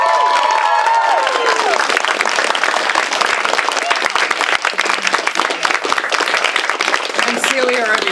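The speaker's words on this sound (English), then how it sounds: "Can we all give her a big round of applause?" A theatre audience applauds a props crew member at a stage show: dense, loud clapping with some cheering and crowd noise, sustained the whole time.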